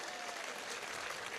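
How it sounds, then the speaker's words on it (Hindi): Faint, steady applause from an audience at a Hindi comic poetry show, a soft continuous wash of clapping with no individual claps standing out and no voices on top. "एक बार ढंग से तालियां बजाओ यार"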